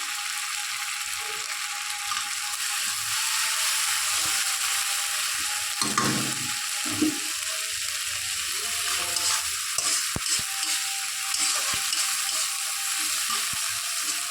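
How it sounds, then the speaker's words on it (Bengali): A steady sizzle of garlic-spiced curry base frying in a pan with a splash of water, the base for a shrimp and tomato curry, with a few louder scraping stirs partway through and no talking. "একটু ভাজা ভাজা মতন হবে এটা।"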